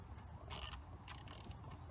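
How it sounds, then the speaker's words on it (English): A quarter-inch ratchet with a small extension and 10 mm socket clicks on a bolt during a thermostat replacement on a 2007 BMW X5 4.8, giving two short bursts of close, crisp ratcheting with no talk. "quarter inch ratchet and little extension and 10 mil"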